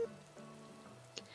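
Soft, steady rain patters in the Animal Crossing game, a faint continuous pitter under quiet background music, with one small brighter drop near the end.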